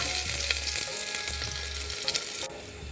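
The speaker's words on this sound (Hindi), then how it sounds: "लहसुनके कनिक लाल होइ तक पहिला भूजि लेबै" Garlic frying in oil with chili and cumin, a steady close sizzle with soft stirring scrapes throughout, dropping slightly quieter near the end.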